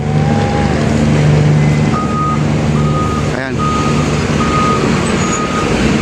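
A brand-new truck backs up with a regular series of loud electronic reversing beeps over a rumbling engine, close by; a voice speaks briefly partway through.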